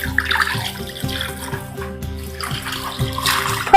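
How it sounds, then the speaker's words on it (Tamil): Water splashes and pours unevenly into a container in short repeated gushes while rock fish is cleaned village-style, close and fairly loud with no talk. "தண்ணி ஊற்றணும்."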